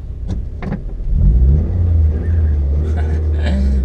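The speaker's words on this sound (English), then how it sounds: "I'm pretty much just revving this car up" A Toyota MR2 Turbo running a Mega Squirt ECU roars close by as its engine is revved, a deep low rumble swelling after a couple of quick blips and then holding steady.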